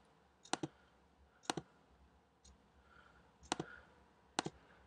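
Computer mouse clicked in quick pairs while editing with a brush tool in Photoshop; four sharp double clicks spaced about a second apart, close and crisp over a quiet room.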